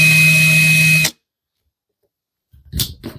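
A Parkside Performance 20-LI B2 cordless hammer drill runs with a steady whine for about a second, then stops; after a silent gap, a brief burst of noise follows.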